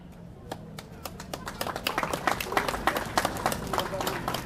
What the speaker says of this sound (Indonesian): Matur suksema tepuk tangannya.